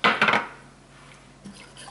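A big tablespoon of horseradish stirred into a stroganoff-style sauce, with a few loud clinks of a spoon against a pot or bowl at the start, then quieter scraping and one later tap.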